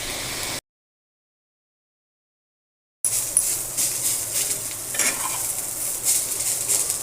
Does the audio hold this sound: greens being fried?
yes